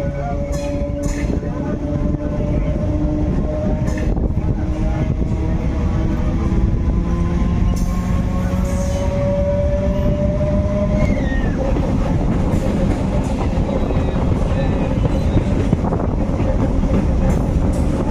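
A local train runs on the Bishnupur to Patrasayer line in Bankura, with a loud, steady rumble of wheels and carriages and faint tonal whines throughout. Muffled voices sit low beneath the constant noise.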